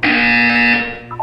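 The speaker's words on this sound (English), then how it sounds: "You will hear a buzzer." A loud, steady electronic buzzer from the video game Portal 2 sounds alone for about a second, holding a sustained tone before cutting off with a short trailing blip.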